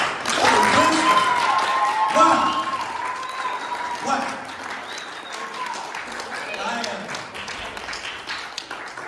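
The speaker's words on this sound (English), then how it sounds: "Another resounding applause." Applause from a youth retreat audience after a closing talk, clapping under a speaking voice that carries over it, with the clapping thinning toward the end.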